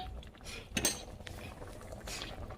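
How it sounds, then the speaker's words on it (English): Washed rice goes into a pot of seasonings for Jamaican seasoned rice, with clinks of utensils against the pot and soft wet shuffling sounds. Faint talk is heard in the background. "Now I'm going to put the rice inside."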